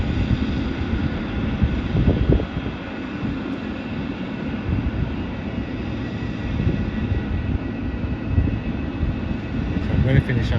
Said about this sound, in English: See the Cathay Pacific flight going to terminals now.